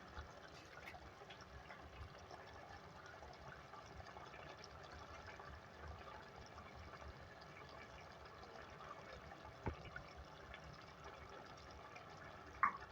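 One cup of water poured into a pot of Hyderabadi-style aloo palak with raw potatoes and spinach, a faint steady gushing pour that runs quietly throughout with no talking.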